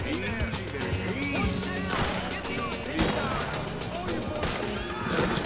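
Repeated gunshots crack out in the Red Dead video game amid a distant shootout, sharp bangs at irregular intervals with echoing tails, while someone talks over them.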